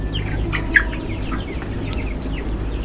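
Small broiler chickens cluck softly at close range, short scattered calls over a steady low background hum.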